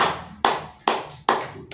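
A worship congregation claps in unison, four sharp, evenly spaced hand claps with decaying room reverb, fairly loud and alone with no voices.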